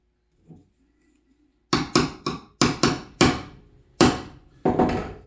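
A mallet strikes a chisel to chop out a wood joint, about nine sharp, ringing blows in uneven clusters, close and loud, after a short quiet handling noise.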